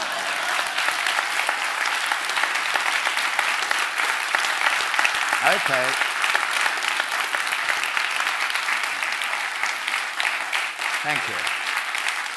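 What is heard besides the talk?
audience applause after lecture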